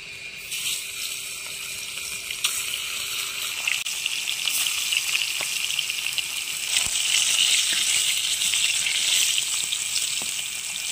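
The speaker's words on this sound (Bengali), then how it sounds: "মাছগুলো আমার লবণ হলুদ মাখানো হয়ে গেছে, এবার একটা একটা করে আমি ভেজে নেব।" Pieces of fresh rohu fish rubbed with salt and turmeric fry in oil in a wok outdoors, a continuous loud sizzling hiss that swells stronger partway through, with occasional small pops.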